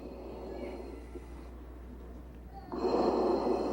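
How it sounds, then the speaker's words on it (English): A firefighter breathes heavily through a mask from a small yellow air tank, mechanical-sounding, with a hissing inhale and a louder rushing exhale near the end. "That's him breathing air out of this little yellow tank."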